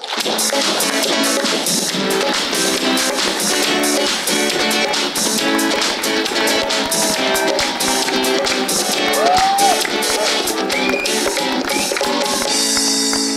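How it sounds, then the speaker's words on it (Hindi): Loud, continuous applause and cheering from a TV studio audience greeting cricketer Nida Dar, a thick wash of claps and crowd noise with music playing throughout. "ये इस्तकबाल, ये वेलकम, ये तालियों की गूंज, ये लगातार शोर किसी स्पेशल इंसान के लिए हो सकता है"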